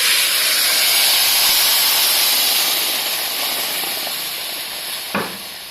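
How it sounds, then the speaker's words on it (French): Broth poured into a hot pan of rice with caramelized onions sets off a loud, steady sizzling hiss close by that slowly fades over several seconds, ending with a brief knock. "Maintenant, on rajoute le bouillon."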